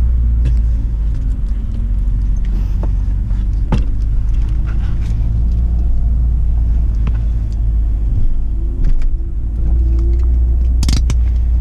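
A Mercedes A45 AMG laps a race circuit, its engine and road rumble heard loud and continuous from inside the car, with faint clicks and rattles over the drone.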